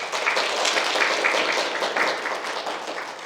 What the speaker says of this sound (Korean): 이재성 연구자님께 다시 한번 감사의 박수 드려주면 좋을 것 같습니다.